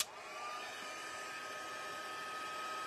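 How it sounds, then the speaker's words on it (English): A heat gun running while warming up for embossing powder on a craft card, giving a steady, even whooshing blower hum throughout, close and constant with no talking. "it takes a minute for the heat gun to warm up"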